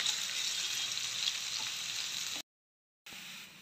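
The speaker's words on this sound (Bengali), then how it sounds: "এখন এটাকে ভালো করে নেড়ে চেড়ে লাল করে ভেজে নেব।" Green chilies, chopped onion and curry leaves frying in oil while being stirred for homemade poha, a steady close sizzle broken by a brief silent gap before it resumes.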